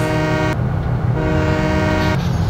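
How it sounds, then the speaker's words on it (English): A train horn in the video game Farming Simulator 2017 blares loud and steady, a sustained harmonic toot that briefly dips and resumes, then cuts off abruptly. "listen to that train"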